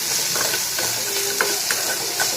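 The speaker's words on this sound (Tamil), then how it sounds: "இது நல்லா ஃப்ரை ஆகட்டும்." Ivy gourd (kovakkai) with turmeric and salt fries loudly in a pan, a bright continuous sizzle with a spatula scraping and tapping through it in irregular strokes.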